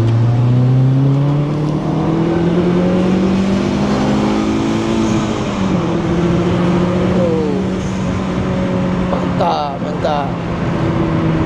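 Turbocharged Suzuki Swift ZC31S fitted with an HKS turbo accelerates hard, its engine note rising steadily and shifting gear partway through, loud and close throughout with a faint whistle near the end.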